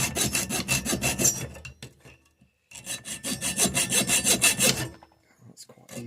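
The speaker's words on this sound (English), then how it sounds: "Just have a go with the normal hacksaw first" Hand hacksaw cutting metal in two bursts of quick rhythmic rasping strokes, about a dozen each, separated by a short pause, close up and without talk.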